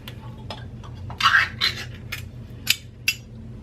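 Two cans of stewed tomatoes going into a pot of chili, with close metallic scrapes and a few sharp clinks as the contents are emptied into the pot.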